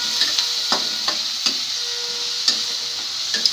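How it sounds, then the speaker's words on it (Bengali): Greens stirred in sizzling oil with onion and garlic, a steady bright frying hiss broken by several sharp scraping strokes of the spoon against the pan, close and clear with no talking. "প্রয়োজনে আমরা আরেকটু তেল দিলাম, নাড়াচাড়া ভালো করে চলছে।"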